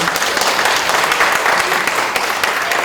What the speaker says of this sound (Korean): 주한 에티오피아 대사관의 카펠레 공사님께 큰 박수 부탁드립니다